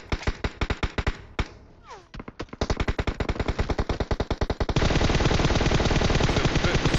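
Gunfire in the PUBG Mobile video game: rapid bursts of automatic shots, loud and close, building into a dense continuous stream of fire, with no clear talking over it.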